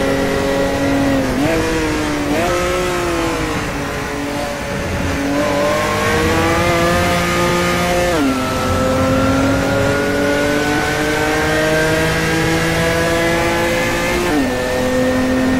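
Race car engines rev continuously in an online racing video game, a loud steady whine rising and dipping with repeated gear shifts over about fifteen seconds, with no talking.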